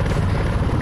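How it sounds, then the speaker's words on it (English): A helicopter passes close by, with a loud, continuous rotor thrum and engine roar that fills the short moment without any talk. "there's a helicopter"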